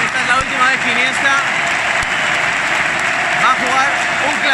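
Stadium crowd at Camp Nou gives a loud, sustained ovation as Iniesta leaves the pitch during a Barça–Real Madrid clásico, a dense wall of applause and cheering heard from a distance, with a voice shouting faintly over it.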